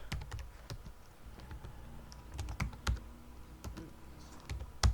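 Typing on a computer keyboard with irregular bursts of close key clicks and a few heavier keystrokes, alone against a quiet room background.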